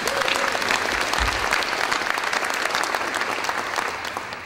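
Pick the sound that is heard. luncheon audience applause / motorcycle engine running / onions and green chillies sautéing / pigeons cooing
luncheon audience applause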